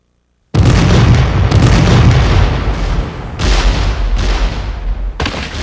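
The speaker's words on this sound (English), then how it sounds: "General Lee first ordered more than 130 Confederate cannon along a 2-mile front to open fire against the Federals on Cemetery Ridge" Civil War cannon fire at Gettysburg erupts after a half-second of silence into loud, sustained booming, with fresh blasts near 3.4, 4.2 and 5.2 seconds rolling into each other.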